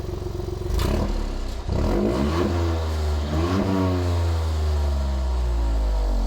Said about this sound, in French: je vais me mettre devant la ligne d'échappement, comme ça vous allez entendre avec l'ouverture des clapets